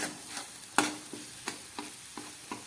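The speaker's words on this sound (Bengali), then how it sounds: "গ্যাস কম করে আদা, রসুন, পেঁয়াজ আর টমেটোটাকে খুব ভালো করে আমি কষিয়ে নিলাম।" Ginger, garlic, onion and tomato sauté in oil over low heat, with a soft sizzle and irregular spoon taps and scrapes against the pan, close by and without speech.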